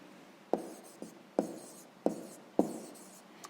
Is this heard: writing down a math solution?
yes